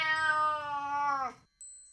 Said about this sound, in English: And a cat. Meow to you too.